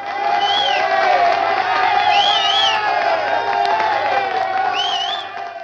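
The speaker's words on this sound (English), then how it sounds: "Actually, Neil, only if you play that lovely applause again." Recorded crowd cheering and applause sound effect, with whoops and excited shouts over continuous clapping, loud and steady before fading at the end.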